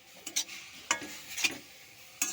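A spoon stirs a beetroot mixture in a pan, giving a handful of faint, scattered scraping and clicking strokes at irregular intervals over a quiet background.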